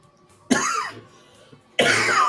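Two bursts of harsh coughing from a person during a tabletop roleplaying game session, close and loud, separated by a short quiet gap.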